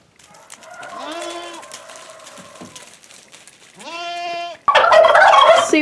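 Turkeys in a barn during an ice storm gobble in loud, close, rattling bursts, first a drawn-out series and then a sharper gobble, ending with a noisy burst of flapping or scuffling.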